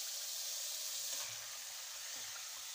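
Boneless chicken sizzles after being dropped into frying masala for Kashmiri-style chicken haleem, a steady close hiss of hot oil and steam with no talk.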